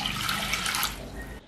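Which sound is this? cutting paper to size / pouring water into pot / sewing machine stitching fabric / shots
pouring water into pot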